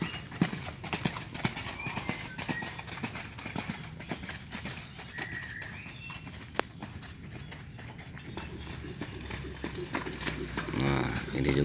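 Racehorses in training at the Sumedang horse racing track: rapid clip-clop of hooves on the ground, fairly close and continuous, with people talking over it throughout.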